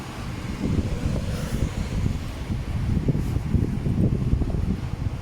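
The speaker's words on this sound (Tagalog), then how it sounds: "Medyo malakas po ang hangin dito." Strong, steady wind buffeting the microphone, a continuous low roaring rumble with gusty swells and no voices.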